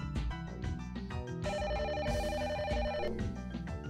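Telephone ringing in the video game The Silver Case, a repeating electronic ring pattern heard over game music and sound effects, fairly close and steady.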